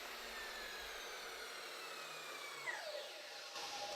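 An electric chainsaw cuts through timber on a wooden-house building site, a continuous high buzzing whine that holds steady and then shifts pitch as the blade bites through the wood.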